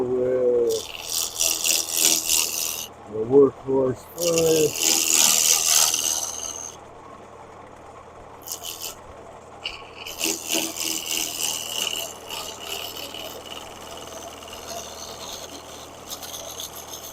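A spindle gouge cuts a spinning wood workpiece on a lathe, giving bursts of bright, hissing scraping that start and stop across the span, with a few short voiced sounds early on and a low motor hum underneath.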